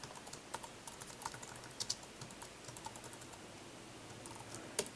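Someone types code on a computer keyboard in quick, irregular bursts of soft key clicks, fairly faint and close, with no voices.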